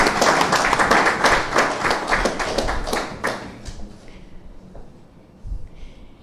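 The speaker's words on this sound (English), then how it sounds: "give the facilitators a special round of applause" Applause at a Ministry of Agriculture land bank project event for the facilitators: loud, brisk clapping from a crowd that thins out and fades, leaving a few scattered claps and quiet room noise.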